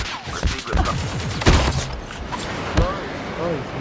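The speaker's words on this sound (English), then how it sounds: "Flashbang grenade." A flashbang grenade goes off in Call of Duty Mobile battle royale amid scattered gunfire, with sharp cracks and bangs cutting through, while a voice talks over the action.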